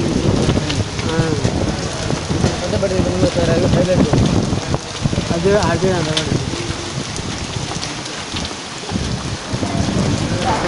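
A summer hailstorm in Tirupathi: heavy rain pours steadily with rumbles of thunder, while people talk intermittently close by.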